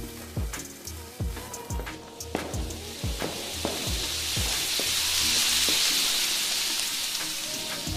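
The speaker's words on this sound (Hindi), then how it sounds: "चुन्नी के बाद बुल्ली एक अनार जलाता है।" An anar fountain firework sizzles and crackles in a continuous hissing spray, with rapid popping ticks early on that give way to a dense, steady roar.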